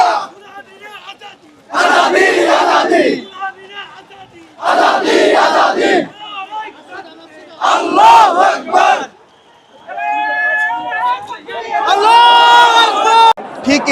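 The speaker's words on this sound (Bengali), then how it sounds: "দিল্লি না ঢাকা স্লোগানে মুখরিত করে রেখেছেন এই জায়গাটি" A large crowd at a funeral procession chants slogans in loud, rhythmic bursts, voices surging together in repeated waves with brief lulls of chatter between them.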